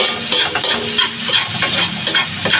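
Chicken hotdog pieces fry with garlic in a pan for garlic fried rice, a loud, dense and continuous sizzle close by with faint stirring scrapes and no talking.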